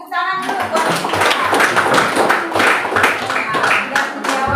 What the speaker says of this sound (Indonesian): kita beri tepuk tangan dulu buat kita.